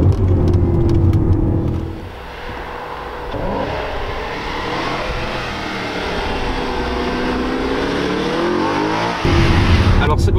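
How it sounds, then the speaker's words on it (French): An Audi RS5 with a 450 hp V8 revs hard as it drops two gears on the paddles, its exhaust roaring and engine note rising and sweeping through the revs, loud and close throughout. "On a l'échappement qui commence à s'énerver, le moteur qui monte dans les tours."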